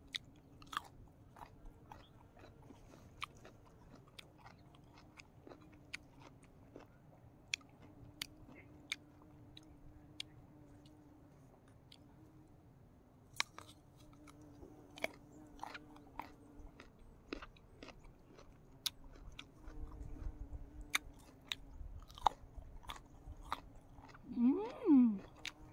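Someone bites and chews a small, unripe pickled apple seasoned with chili and salt. Close, quiet crunches and wet chewing come in sporadic bursts against an otherwise hushed background.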